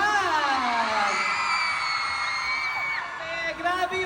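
Crowd at a mall event at SM Dasma cheering and shouting for a P-pop group, a loud sustained mass of whoops and yells with an amplified voice over it.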